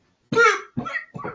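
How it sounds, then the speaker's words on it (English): Three harsh coughs from one person with a long-lasting cough, the first strongest and the next two shorter and weaker, heard close and alone in a quiet room. "I've had this cough for 9 months."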